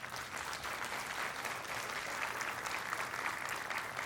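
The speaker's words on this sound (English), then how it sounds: "Give yourselves a round of applause there." Graduates at a 2023 commencement ceremony give a round of applause, a dense, even wash of many hands clapping for the whole stretch, steady and moderately loud with no pauses.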